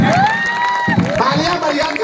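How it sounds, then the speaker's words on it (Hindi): A crowd at an outdoor Hindi poetry gathering at Garden Chowk, Balodabazar, breaks into loud, dense applause with cheering and a voice rising above the noise. "तालियां बढ़िया।"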